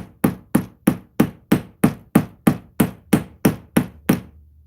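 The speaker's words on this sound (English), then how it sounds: "I've got my 13-ounce hammer." A 13-ounce hammer strikes metal repeatedly to flatten and texture it, about a dozen sharp, evenly spaced, ringing blows, close and loud with no talking.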